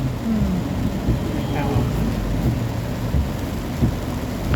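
Heavy rain pours steadily in Bangkok, a dense continuous wash with low rumbles of thunder rolling underneath throughout, close and loud.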